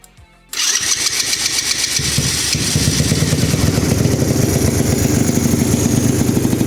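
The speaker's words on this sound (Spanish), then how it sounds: "Y enciende ya en frío con el aire tirado." Small petrol engine on a homemade mini jeep starting from cold with the choke pulled: a brief quiet moment, then it catches and runs loud and close, settling into a rapid, steady, clattering idle.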